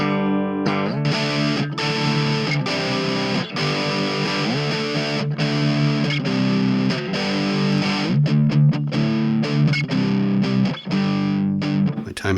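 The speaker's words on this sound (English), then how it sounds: "One of the things that I love so much about distortion or gain or however you want to put it is you can go have it ring out like that" Electric guitar strummed through heavy distortion and gain effects, chords ringing out loud and full with a few brief stops and restarts, played alone without talk.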